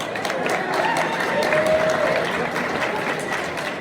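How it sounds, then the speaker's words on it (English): A banquet audience at an amateur motocross awards night breaks into dense, sustained applause, loud and continuous, with some crowd noise mixed in. "Put a round of applause together these guys."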